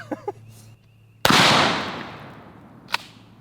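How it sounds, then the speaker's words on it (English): A single loud shotgun blast fires a regular lead slug, a sharp close crack with a long decaying roar, preceded by small clicks and followed by a brief metallic tick. "I want to try a regular lead shotgun slug and see what the difference is"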